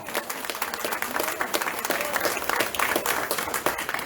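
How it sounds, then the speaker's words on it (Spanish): A church congregation applauds during a sermon, a steady crackle of many hands clapping at moderate distance for several seconds. "¿Cuántos le dan un aplauso al Señor?"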